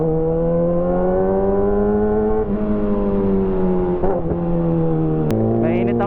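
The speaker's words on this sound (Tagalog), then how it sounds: "Friday traffic." A car engine drones and revs in Friday traffic on EDSA, its pitch rising and falling steadily, heard close from inside the vehicle with a brief sharp click near the end.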